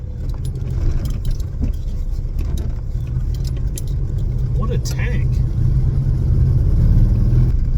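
A classic Volkswagen Beetle engine chugs at very low RPM while driving off-road, a steady low rumble with rattles and jangling keys, overlaid by someone talking.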